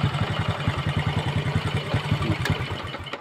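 A Honda Kirana motorcycle engine idles after starter repair, a quick, even putt-putt pulse at close range that holds steady for a few seconds.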